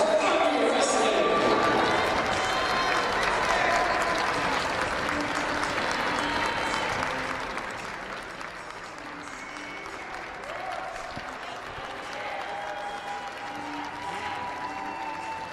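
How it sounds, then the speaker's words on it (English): Fans at an Army wrestling meet applaud the senior class, a loud, dense crowd ovation that eases slightly partway through and carries on steadily, with announcer-style voices faintly under it. "Fans, how about one more round of applause for the 2024 senior class for Army Wrestling."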